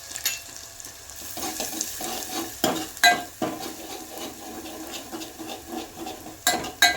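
A besan dumpling curry is stirred in a pan after mustard seeds splutter, giving soft scraping and light sizzling with a few sharp clinks of a spoon against the vessel, close and fairly quiet, with no one talking.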